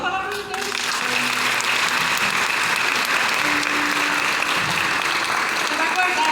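Loud, sustained applause from a large audience at a Catholic testimony event in Brazil. Dense clapping fills the whole stretch, with a brief voice at the start and faint crowd noise underneath.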